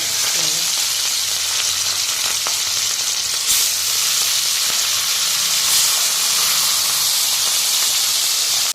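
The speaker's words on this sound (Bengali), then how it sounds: "এখন মাছগুলো ভেজে নিচ্ছি" Lote fish, Bombay duck, frying in a pan in a home kitchen: a continuous loud hissing sizzle of hot oil with faint stirring clicks, steady throughout and without talk.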